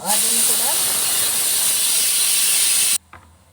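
Rice cooking for a dry fruits pongal gives off a loud, steady steam hiss that holds for about three seconds and then cuts off abruptly, leaving near silence.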